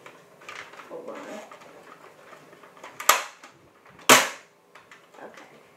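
Toy blaster gun fired twice in quick succession, two sharp cracks about a second apart amid faint room noise and handling sounds.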